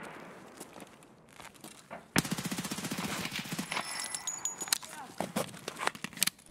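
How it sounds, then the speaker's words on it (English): Rapid automatic gunfire from an Escape from Tarkov match, a quiet stretch of scattered shuffling followed by a loud sustained burst of rattling shots and echoing cracks that continue unevenly to the end. "Somebody's getting shot."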